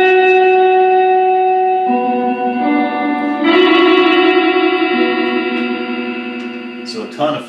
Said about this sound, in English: An infinite echo just keeps building